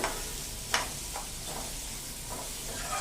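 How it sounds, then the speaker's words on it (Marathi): Onion sautéing in a pan makes a steady, fairly faint sizzle, broken by a few brief spatula scrapes. "कांदा छान परतून घ्यायचा याच्यामध्ये"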